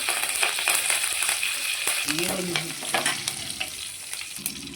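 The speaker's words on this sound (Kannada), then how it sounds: "ಇವಾಗ ಕರಿಬೇವನ್ನು ಸೇರಿಸ್ಕೊತಿದ್ದೇನೆ" Curry leaves added to hot oil already holding cumin and garlic for a Mangalorean beetroot sabzi, crackling and sputtering loudly with scattered pops and stirring scrapes, close and busy throughout.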